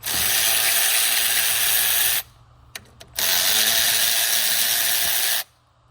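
An electric ratchet spins out alternator bolts on an OBS Ford 7.3 Powerstroke truck. Two loud, steady, close whirring bursts are separated by a quiet gap holding a few small clicks, and no one speaks.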